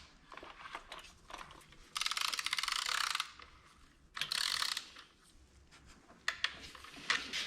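A torque wrench ratchets as lug bolts on a Ford Fusion are tightened to about 50 inch-pounds, bursts of rapid clicking in several runs with short pauses between, close and fairly quiet.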